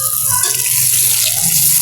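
Tap water pours steadily into a cooking pot in a home kitchen, a loud, continuous close-up splash and gush lasting throughout without pause.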